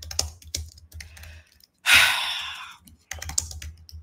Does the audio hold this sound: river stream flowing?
no